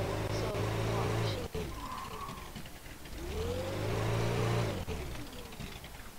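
An engine in the Brick Rigs video game whirs and revs as a vehicle drives, rising and falling in two swells at moderate level while someone talks over it.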